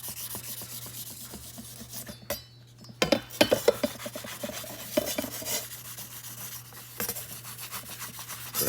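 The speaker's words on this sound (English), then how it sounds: "rub that blade on that leather, and then you flip it over on your smooth side" A Japanese knife blade is rubbed along a leather strop in a series of irregular scraping strokes, with sharper rasping passes in the middle and a faint hum behind.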